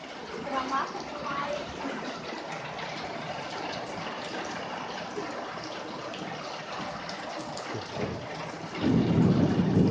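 Heavy rain pours steadily during outdoor bathing as thunder rumbles, building to a loud, deep roll near the end, with people shouting intermittently over the downpour.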